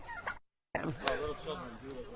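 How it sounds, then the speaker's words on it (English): A turkey gobbles close by in short, warbling bursts, with a brief moment of silence cutting in partway through. "There's another turkey."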